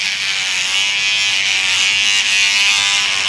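Electric hair clippers buzz steadily and close up while cutting a mullet at a paintball World Cup event, one continuous unbroken drone with no talking over it.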